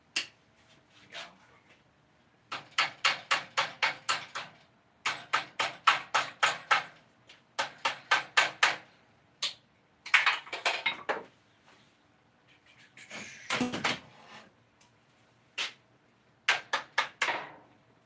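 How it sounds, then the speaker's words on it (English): Hammer blows riveting down the pins on a war scythe's metal jacket, delivered in quick bursts of sharp metallic strikes, about five to eight per group, with short pauses between groups, close and loud. "Cut off the excess to where we can rivet it down."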